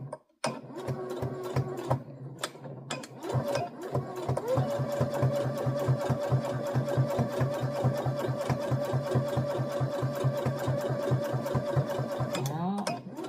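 A sewing machine running a short seam, its motor and needle clattering in a fast, steady rhythm for several seconds after a few brief starts, close and fairly loud.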